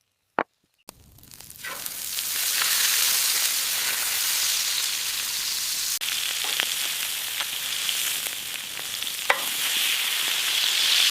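Steak sears in herb butter on a coarse sea salt crust over a campfire, a loud steady sizzle and hiss after a sharp start, with occasional pops and crackles throughout.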